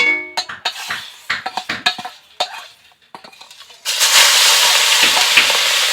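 Mourala fish frying in hot white oil in a wok: a run of clattering spatula knocks and brief crackles, then a loud, dense, steady sizzle as the fish hits the oil, close and without talk.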